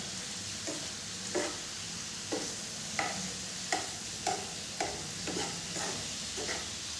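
Stuffed parwal and okra cooking together in a pan, a quiet steady sizzle broken by a series of soft, regular stirring scrapes about every half second to second.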